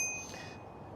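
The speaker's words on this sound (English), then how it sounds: "It does come also with this bell." A single clear bell ding from the handlebar bell of a DYU C3 ebike, bright and close, fading away over about a second.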